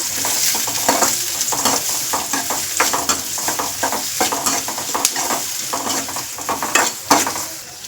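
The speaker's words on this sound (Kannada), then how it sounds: "ಅದನ್ನು ಸ್ವಲ್ಪ ಕೆಂಪಗಾಗೋವರೆಗೂ ಹುರ್ಕೋಬೇಕು ಈರುಳ್ಳಿ ಕೆಂಪಗೆ ಆಗಬೇಕು" Chopped onions sizzle in a hot pan while a spoon stirs and scrapes them in quick irregular strokes, close and fairly loud with no talking.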